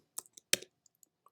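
A few quiet, separate clicks of keys pressed on a computer keyboard while a short command is typed, with gaps of silence between the strokes.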